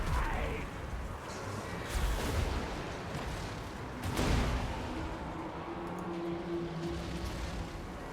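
Warp Lightning Cannon artillery fire sounds during a Total War: Warhammer battle as two heavy booming blasts over a constant rumble of battle noise, with a low droning tone toward the end.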